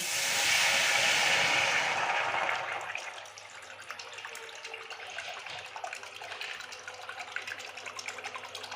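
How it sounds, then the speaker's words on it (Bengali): Hot water gushes loudly into a pot for a chili soybean dish, a strong steady pour for about three seconds that then settles into a quieter, uneven trickle and splash. "এখন আমি গরম জলটা দিয়ে দিচ্ছি"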